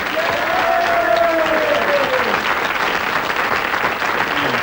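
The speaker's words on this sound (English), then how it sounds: "So, a big round of applause again," Audience applause for a quiz contestant in a televised quiz show studio, a dense, even wash of clapping from a crowd, sustained throughout, with a host's voice briefly heard over it.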